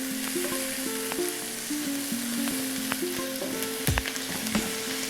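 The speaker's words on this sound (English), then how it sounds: "I'm gonna saute that off until it's translucent." Onions sauté in a pan for a sun-dried tomato cream sauce, a steady close sizzle with scraping spoon strokes over a constant electric hum.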